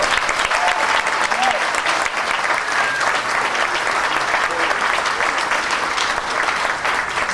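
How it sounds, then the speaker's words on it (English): An audience at a welcome and orientation program applauds dignitaries, a steady, dense round of clapping throughout. "please give all three of our dignitaries a wonderful round of applause."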